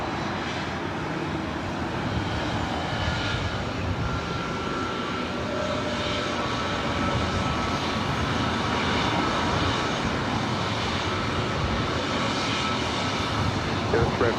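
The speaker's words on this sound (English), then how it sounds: "This is Delta Airlines Flight 311. It's an A321 Neo heading to Kona." Delta Airlines Airbus A321neo jet on a flight bound for Kona at LAX, its engines producing a steady, broad roar that holds throughout without letting up.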